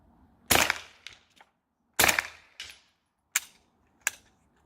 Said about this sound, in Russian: Стреляю по сейфу.